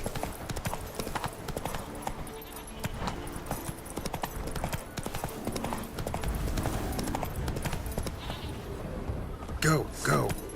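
Roach, the horse from The Witcher 3, gallops with a quick, steady clip-clop of hooves throughout, while a voice talks over the game sounds.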